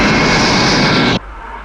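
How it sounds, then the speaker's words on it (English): Jet airplanes flying over near an airbase, a loud, broad roar that holds steady and then cuts off abruptly, leaving near silence. "Oh, those damned airplanes."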